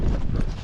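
A gaited Rocky and Kentucky Mountain horse steps close by, a brief, dense run of low hoof thuds and clopping from a horse at a gait, with rustling around it.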